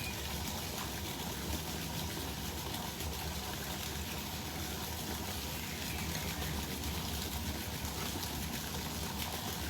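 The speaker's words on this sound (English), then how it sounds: "still no one has told me how the sound is, if the waterfall is too loud" A waterfall runs steadily in the background, a soft continuous rush of falling water with no breaks, fairly quiet and alone with no talk.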